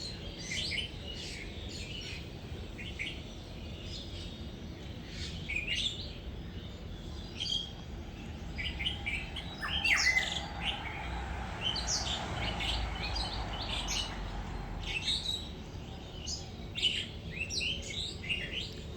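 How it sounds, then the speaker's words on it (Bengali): Outdoor birdsong while flowers are being picked, with many small birds chirping and calling in quick, overlapping bursts at moderate distance over a soft background hush. "কি সুন্দর লাগছে না পাখির ডাকগুলো"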